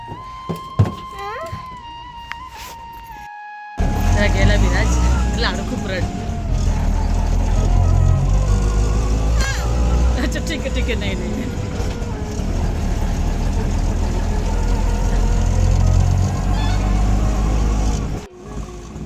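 Ride in an auto rickshaw, a steady motor rumble and road noise running loud and continuous under talking voices, with occasional thumps over bumps.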